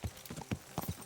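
Hooves of a horse in Kingdom Come: Deliverance II clop in a quick, uneven rhythm, about half a dozen distinct, close strikes over a quiet background.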